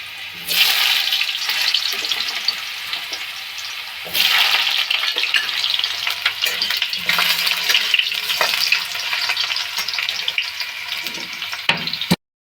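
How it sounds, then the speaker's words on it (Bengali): Potatoes frying in hot mustard oil, a loud continuous close sizzle that surges twice as pieces go in, with occasional utensil knocks and no talk. "তেলটা গরম হয়ে গেছে, আলুটা ভেজে নেব।"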